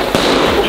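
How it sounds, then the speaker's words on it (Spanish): A firecracker goes off in a neighbourhood firecracker battle, one sharp loud bang cutting through a continuous crackling, fizzing background of other fireworks. "¡Que te tiro un petardo!"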